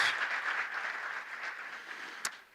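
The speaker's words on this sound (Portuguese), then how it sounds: "Eu queria que o restante desse um aplauso a Jesus pela vida dos nossos" A church congregation applauds its visitors during a Portuguese-language celebration service, a moderate crowd of hands clapping that gradually thins and softens, ending on one sharp, distinct clap.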